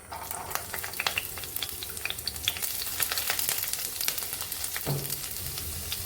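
Garlic fries in hot oil in a wok with a busy, close sizzle and crackle, broken by frequent stirring clicks and scrapes, with no voices.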